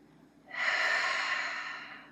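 A single long, deep breath drawn in and slowly released during a yoga pose, close and clear, steady in volume and fading at the end, with no talking.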